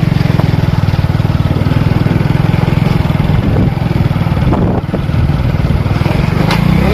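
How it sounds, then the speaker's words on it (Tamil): A motorbike engine labors loudly in second gear up a steep slope near a fort at Kottakarai, Arakkonam, a steady close chugging drone with a dip in level midway. "ஏறும்போதே வண்டியை செகண்டில் தான் ஏற்றுறோங்க அவ்வளோ மேடுங்க"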